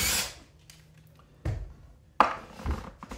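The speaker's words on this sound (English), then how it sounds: "So I'm gonna open these two screws here in back." Close, dry clicks and scraping bursts from screws being turned out of the back of a harmonium's wooden case, a few separate handling noises with quiet gaps and no talk.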